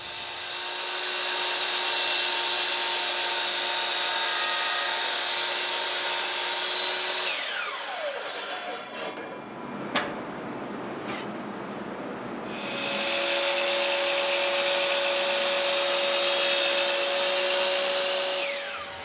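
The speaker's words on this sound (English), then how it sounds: "Once things are broken down, they'll be cut to their final length on the miter saw." A miter saw cuts plywood to length: a loud, steady motor whine spins up, drops into a rougher cutting roar midway, then winds back up to a sustained whine, all close and without talking.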